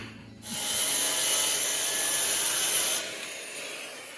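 A steady, harsh sawing rasp through a wood board runs for a few seconds at close range, then cuts off, leaving a quieter hiss behind.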